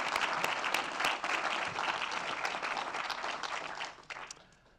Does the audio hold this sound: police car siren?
no